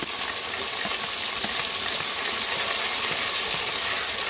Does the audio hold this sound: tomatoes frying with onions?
yes